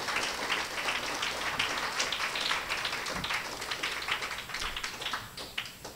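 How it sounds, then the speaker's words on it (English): A crowd at a Hindu school graduation ceremony gives a steady, lengthy round of applause for the principal, the clapping dense and continuous throughout. "give him another wonderful round of applause for 10 years"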